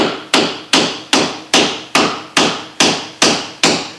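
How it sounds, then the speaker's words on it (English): A hammer drives nails into a wooden shingle on an old cabin roof, ten sharp, evenly spaced blows in steady rhythm, loud and close with no talking. "Then I finish driving the shingle"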